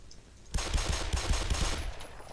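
Rapid pistol gunfire from the video game Black Mesa, a loud burst of many quick shots fired in close succession, sharp and near, running for about two seconds with no talk over it.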